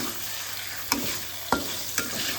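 Pork rica stir-fried in a pan: a steady broadband sizzle with three sharp scraping clacks of a spatula stirring the meat, close and fairly loud, no voices.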